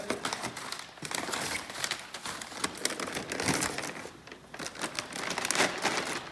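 A new car hose being unwrapped from a plastic protein-powder bag, with steady close crinkling and rustling of plastic that rises and falls throughout.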